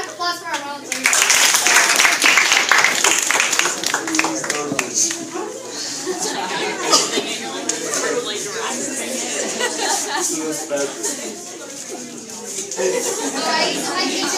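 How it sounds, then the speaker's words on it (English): A group of children claps for volunteers during a classroom activity, with scattered, uneven clapping and excited chatter and laughter running over it throughout. "Round of applause for our volunteers."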